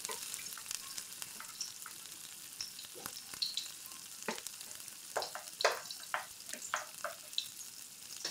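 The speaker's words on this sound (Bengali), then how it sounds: "এখন আমি এক এক করে বেগুনগুলো দিয়ে নিচ্ছি" Eggplant pieces go one by one into a little hot oil and fry with a steady crackling sizzle, broken by sharp spattering bursts as each slice lands, close and fairly quiet with no talk.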